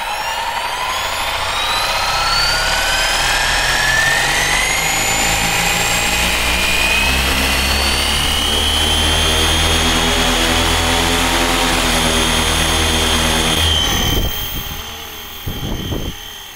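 RC helicopter motors of an FW450L-V3 whine up loudly, the rising pitch climbing steadily for several seconds before cutting back, close and continuous.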